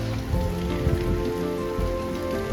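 Heavy rain pours down in a dense, steady roar of drops hitting surfaces, loud and continuous throughout with no voices.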